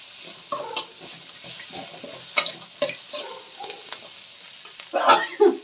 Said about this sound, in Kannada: ಅದಕ್ಕೋಸ್ಕರ ನೀವು ಈರುಳ್ಳಿನ ಚೆನ್ನಾಗಿ ಬೇಯಿಸ್ಕೊಬೇಕು